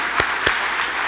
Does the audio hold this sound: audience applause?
yes